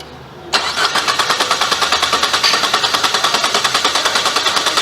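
A 2013 Chevrolet Cruze with a random misfire cranks steadily after a sudden start, the starter's rhythmic, loud chugging pulses repeating evenly without the engine catching.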